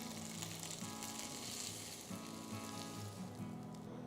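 Chicken pieces frying in a pan over a high flame, a steady close sizzle with crackling spatter running throughout, alone without voices.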